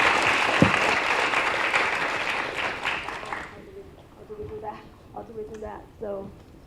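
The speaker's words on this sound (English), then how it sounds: "let's give Professor Newman another round of applause" Lecture-hall audience applauding a visiting professor, a dense burst of clapping that fades out after about three seconds, followed by someone speaking alone close to the microphone.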